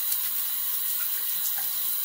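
A tap runs steadily to rinse out a Baume.Be triple milled shaving soap container, a continuous close hiss of splashing water with no speech.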